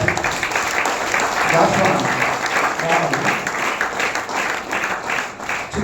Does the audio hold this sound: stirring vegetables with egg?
no